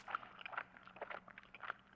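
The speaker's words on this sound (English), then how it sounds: "I hear a noise like someone chewing gum from the other end of the phone." Wet, irregular chewing of gum comes faintly through a phone line in the horror video game Spirit Hunter: Death Mark, a steady run of small clicks and smacks with no voice.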